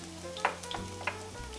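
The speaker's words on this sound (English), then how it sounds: "Garlic goes in first, and I'll tell you why in a minute. Here we go. You can hear it sizzle." Garlic sizzles in a hot pan for sauce, a soft low frying hiss with a few light clinks of stirring, close and quiet, with no voice.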